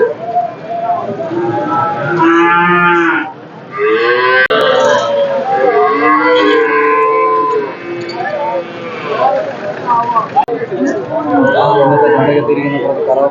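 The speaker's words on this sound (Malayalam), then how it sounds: "ചന്തകത്തിരിക്കുന്ന കുറച്ച് കറവ പശുക്കളാണ്" Dairy cows, including pure HF crossbreeds, mooing at the Melepalayam cattle market, loud drawn-out calls one after another close by, with market chatter around them.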